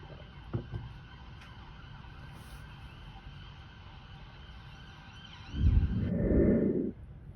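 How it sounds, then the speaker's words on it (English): Faint sirens wail steadily in the distance for several seconds, followed by a short muffled rumble up close near the end. "here come the sirens"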